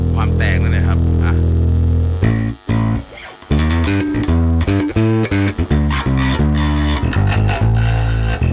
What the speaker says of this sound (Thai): ไดฟ์นี่ก็คือความแตกนั่นแหละครับ